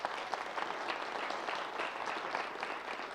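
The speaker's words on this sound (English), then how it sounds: "Give them a big round of applause, please." Dense, even audience applause fills the room at an astronomy expo, a steady wash of many hands clapping with no voices over it.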